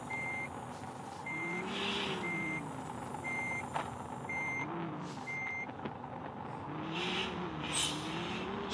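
A coach bus on a Stuttgart to Hamburg run sits with its engine rumbling steadily while a reversing alarm beeps in a regular repeating rhythm, with some wavering tonal engine or compressor hum beneath.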